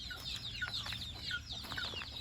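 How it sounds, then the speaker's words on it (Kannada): Pure native country chickens cluck softly and repeatedly at a farm, several short calls overlapping at a moderate distance over a quiet background. "ಊಟ ನಮ್ಮ ಕೋಳಿಗಳೆಲ್ಲ ನೋಡಿ, ನಾಟಿ ಕೋಳಿ, ಪ್ಯೂರ್ ನಾಟಿ ಕೋಳಿ ಎಲ್ಲ ಹೆಂಗೆ ಈಚೆ ಇದೆ"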